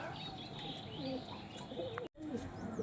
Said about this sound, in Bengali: ওই কালাঙ্কা পায়রাটা দেখো নতুন এনেছি